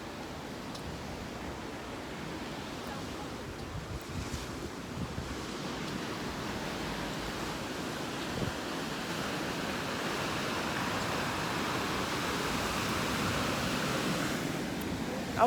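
Waves washing onto a beach in Barbados, a soft continuous surf roar heard from a short distance, with wind buffeting the microphone and the wash swelling slightly louder toward the end.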